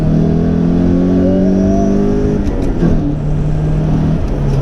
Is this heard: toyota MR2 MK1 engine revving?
yes